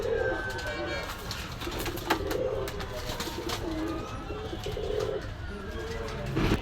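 Masaldom and racer pigeons at a pigeon market shop in Gallamari, Khulna coo in low repeated phrases against a busy, noisy background, with bird chatter throughout.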